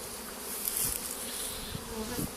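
A honey bee swarm clustered on a branch buzzes steadily and densely, a close continuous drone with individual bees whining past, no voices.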